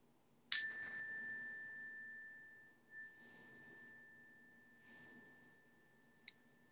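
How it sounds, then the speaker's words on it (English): A single bright chime rings out clearly, then fades slowly into a long pure sustained tone that lingers for several seconds in near silence, ending with a soft faint click. "I'm going to start this experience and end it with the sound of a chime."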